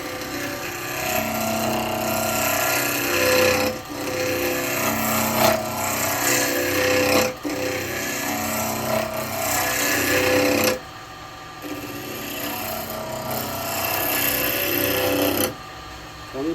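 A yew lidded pot spins on a wood lathe while a turning tool cuts, giving a steady, loud scraping rasp that runs continuously with brief dips and pauses as the tool shifts.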